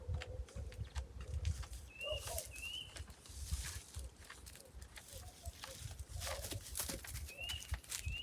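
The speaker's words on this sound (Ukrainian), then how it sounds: "Не знаю, що це за пташка." Faint, brief high chirps from an unidentified small bird, heard a few times outdoors on an overgrown goat farm, set against soft thumps, rustling and low background noise.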